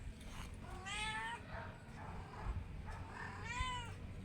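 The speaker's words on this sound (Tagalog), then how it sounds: "ang pusa ko, ini-interrupt ako" A pet cat meows twice, drawn-out, wavering calls about two and a half seconds apart, fairly faint against a quiet indoor background with no speech.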